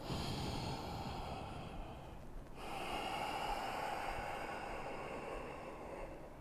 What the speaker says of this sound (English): Take a steady breath into your body and a steady breath out.